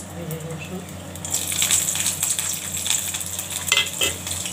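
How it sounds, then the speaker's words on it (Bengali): Dried chili and garlic sizzle in hot oil in a pan, with steady crackling and a few louder spattering bursts partway through. "তা আমি এখন ভেজে নিই ভালো করে"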